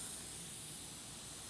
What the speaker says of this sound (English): I'm just going to spray that through